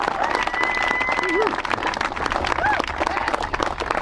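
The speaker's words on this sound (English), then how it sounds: "he deserves another round of applause" Audience applause at a political event in Colorado where a senator is endorsed on immigration reform: a dense, steady wash of clapping from a crowd, loud and sustained throughout, with faint voices and a whistle-like tone mixed in.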